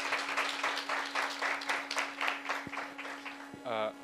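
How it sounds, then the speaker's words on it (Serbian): Applause from an audience at a lecture on muscle contraction efficiency and exercise dosing: a run of steady clapping bursts at moderate level that goes on across several seconds, with voices mixed in. "Aplauz!"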